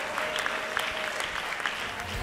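An audience applauding a presenter at an event in Lubumbashi, steady clapping throughout with a faint crowd murmur beneath.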